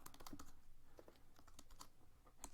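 Rapid typing on a computer keyboard while entering placeholder text for a web page, with dense, irregular clicks of keys in a steady close-up stream, no speech.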